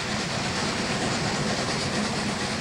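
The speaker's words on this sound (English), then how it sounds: "Leaving Chama, the crews on both locomotives get things in order before the train hits the hill." A train pulled by two locomotives leaving Chama produces a steady, dense rumble and hiss with faint rhythmic clatter of the cars, continuous and fairly close.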